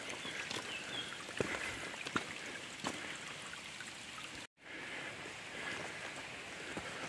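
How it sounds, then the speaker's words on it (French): A small river flows along a mountain path out in wild nature, a steady close broadband rush of water with light wind noise, broken by one brief cut near the end and no talk. "C'est par une petite rivière là."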